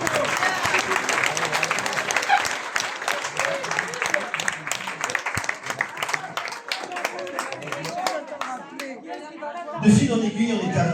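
Audience applause at a live French show, heard near and loud as a dense patter of many hands clapping. It fades out toward the end, and a brief burst of crowd noise follows.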